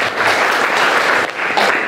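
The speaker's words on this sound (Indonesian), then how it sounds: "Tepuk tangan buat mereka nih." An audience at a public forum with a regent claps for three people who asked questions, a short loud burst of applause from a crowd that briefly dips and then picks up again.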